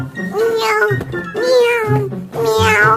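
A person voices kitten-like meows, three drawn-out mewing calls in a row, close and loud, imitating a small cat indoors at home.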